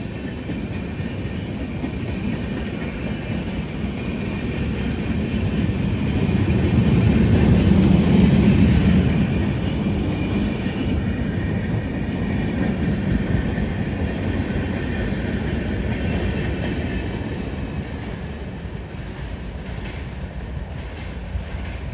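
A train rumbles through Manjeshwar railway station in Kerala, a continuous heavy roar with rhythmic wheel clatter that builds to a louder peak midway and then holds steady as the carriages keep passing.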